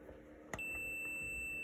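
A multimeter used for a continuity check on a Bally pinball AS2518-32 MPU board gives one steady high-pitched beep, which starts abruptly and holds for about a second in a quiet room.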